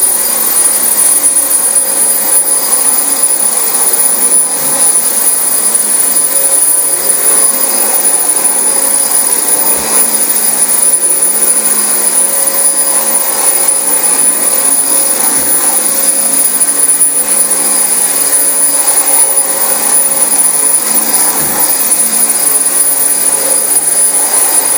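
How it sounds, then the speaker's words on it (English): A loud, steady vacuum cleaner roars continuously without letup, its whine close and constant, with faint scraping now and then. "And so be careful when you vacuum."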